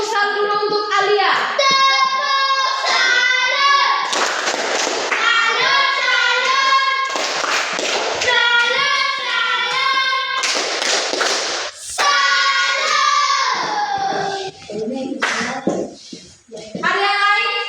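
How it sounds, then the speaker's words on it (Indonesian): Classroom students clapping for a classmate, bursts of hand claps alternating with children's voices and talking, the applause coming in several loud spurts across the stretch. "tepuk tangan dulu untuk Alia."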